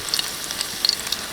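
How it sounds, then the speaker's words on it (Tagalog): Ginger frying in hot oil for papaitan, a close, bright crackling sizzle with small spitting pops throughout the brief moment, no talking. "mainit na yung mantika. Ilagay natin yung luya."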